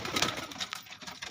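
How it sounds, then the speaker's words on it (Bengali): Pigeons kept for sale at a loft in Konnagar coo softly in a brief, continuous murmur, with a faint rustle of birds moving close by and no voices. "পায়রা দেখে নিন।"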